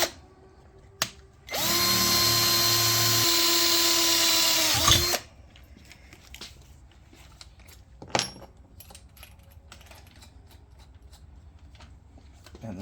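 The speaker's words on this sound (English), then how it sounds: "Now we'll drill a 1/4 inch hole back where it mounts on the body." A power drill boring a 1/4 inch hole through a metal bracket held in a vise, one steady loud whine of about three seconds, then quiet handling clicks and a brief clank.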